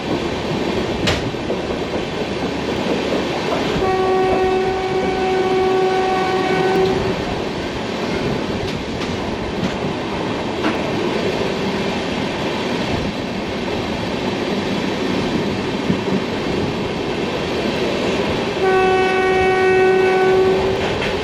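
A train stands at a railway station in North Bengal and sounds two long, loud horn blasts, one early and one near the end, over steady rumbling and clattering rail noise.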